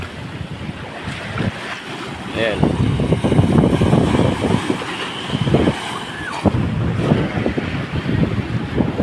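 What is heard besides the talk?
large typhoon waves crashing with strong wind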